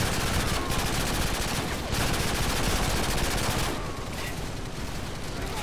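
Sustained rapid gunfire and overlapping automatic bursts from the video game Call of Duty: Modern Warfare 2, loud and continuous throughout, with no talking.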